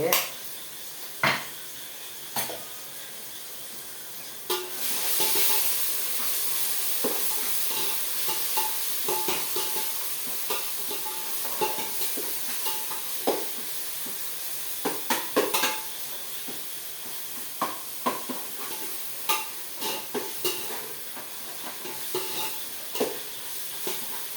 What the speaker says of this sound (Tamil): இஞ்சி பூண்டு பச்சை வாசனை போகிற வரைக்கும் வதக்கிடலாம்.